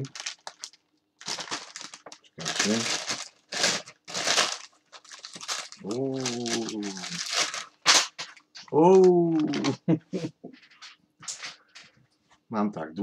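A paper envelope decorated with hearts is handled and opened as a holiday gift, making intermittent crinkling and tearing rustles close by while someone talks over them.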